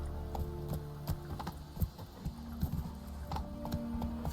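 Hoofbeats of Roach, a horse in The Witcher video game, clip-clopping in a steady trot, moderately close, over a low game ambience with no talking.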